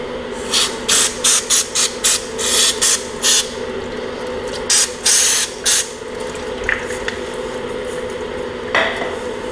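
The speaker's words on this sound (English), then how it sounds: "cleaning off the residue with a little bit of parts cleaner" Parts cleaner is sprayed on a Kubota compact tractor during an oil filter service, in a string of short, sharp hissing bursts, about a dozen in quick clusters, close by over a faint steady hum.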